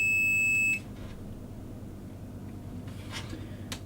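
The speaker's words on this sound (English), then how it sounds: "Let's make a continuity with the beep. Okay, so it beeps, it's good." A multimeter in continuity mode gives one steady electronic beep while checking an Acer 8930 laptop, then stops, leaving a quiet room with faint handling noise.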